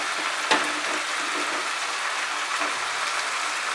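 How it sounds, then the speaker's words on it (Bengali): Water poured into sizzling masala for a coriander chicken curry, a sharp splash near the start and then a steady, close broadband frying hiss that goes on throughout. "এবার আমি এর মধ্যে জল অ্যাড করছি"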